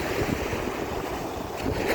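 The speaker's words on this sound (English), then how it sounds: "Bloody wind, it was alright before." Strong wind buffets a microphone at Blackpool's Central Beach by the sea, a steady loud roar with gusts and surf wash underneath, no talking.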